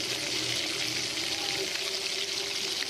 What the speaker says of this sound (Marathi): आपण याच्यामध्ये गरम पाणी टाकू